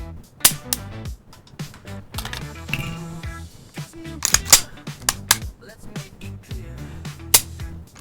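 Sharp metallic clicks from a CZ P-01 pistol's decocker and trigger pull, close and crisp, a series of separate snaps at irregular intervals with quieter mechanical handling sounds between them.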